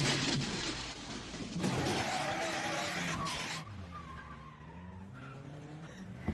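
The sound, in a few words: car speeding in cartoon chase (Doraemon)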